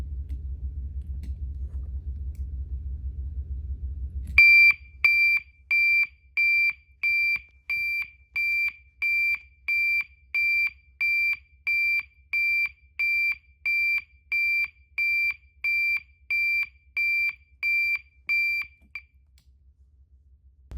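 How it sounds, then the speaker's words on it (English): A System Sensor MA/SS-24D alarm sounds a 2400 Hz interrupted tone, a shrill electronic beep pulsing evenly about once a second for some fifteen seconds, after a few seconds of low hum. "Now we'll do 2400 hertz interrupted."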